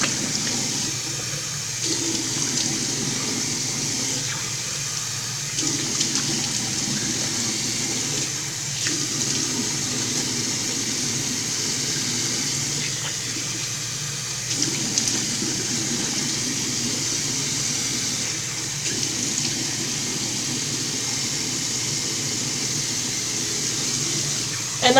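Warm running water pours steadily from a tap as a face is rinsed, a continuous close hiss with small splashing variations throughout and no talking.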